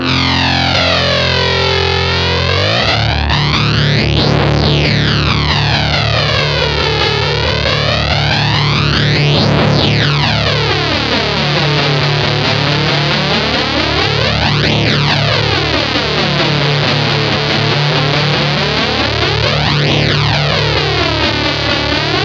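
Distorted guitar run through an EarthQuaker Devices Aurelius flanger pedal, its width control being swept, gives a loud, continuous tone with deep jet-like whooshing sweeps that rise and fall repeatedly in a slow cycle.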